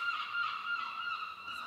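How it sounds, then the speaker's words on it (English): Seagulls call outdoors with a steady, harsh, nasal crying that holds continuously and moderately loud throughout. "Fucking seagulls."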